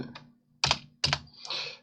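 Computer keyboard keys are pressed while modelling in SketchUp, a few distinct clicks and short bursts of tapping, close and crisp, separated by brief pauses, with no one talking.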